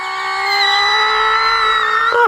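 A human voice imitates the BMW M3 GTR racing engine from Need for Speed Most Wanted, a loud, close, sustained buzzing engine whine that rises slightly in pitch over about two seconds before cutting off abruptly.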